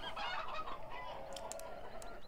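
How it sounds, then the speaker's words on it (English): Several video game chickens cluck and crow in a busy flock on a farm, with sharp higher calls near the end and steady background noise. "Oh, there's all chickens everywhere."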